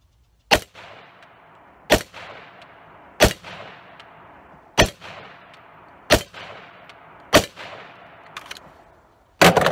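An AR-15 fires 5.56 rounds at steel body armor with a spall liner, sharp single shots spaced a second or more apart, each with a ringing tail.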